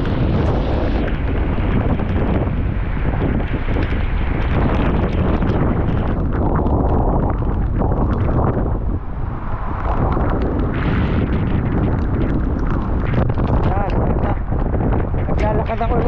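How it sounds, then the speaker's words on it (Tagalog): Strong wind buffeting the microphone along with heavy rain at a beach cottage, a loud roaring rush that barely lets up, with gusts swelling and easing over the whole stretch. "Naglalakad ako na patalikod dahil hindi makamulat sa lakas ng hangin at saka ng ulan."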